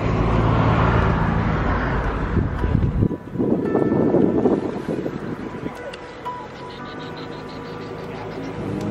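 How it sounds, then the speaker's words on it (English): Passing car engines, many turbocharged, and road noise at a car meet, recorded from a car window with wind buffeting the microphone, a louder vehicle rumbling by mid-way, then quieter traffic hum. "Stick it out the window, just start recording some cars there."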